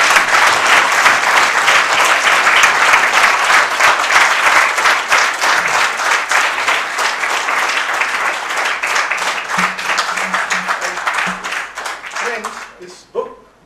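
Sustained, loud audience applause at a memorial lecture fills the room, dense clapping holding steady for most of the span before thinning and fading near the end, with a few faint voices underneath.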